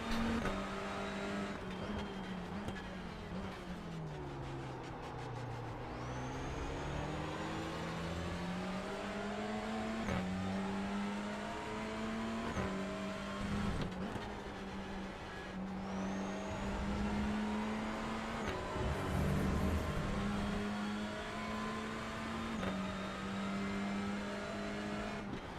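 A Hyundai Elantra touring car racing in iRacing at Snetterton 300, its engine droning steadily and rising and falling through gear changes and corners, with other cars close by and no talk.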